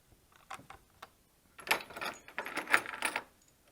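A ratchet clicks in short bursts, then a longer run of quick metallic ticks and scrapes, close and fairly quiet, while a hose clamp is loosened at the throttle body of a 1.6 THP engine.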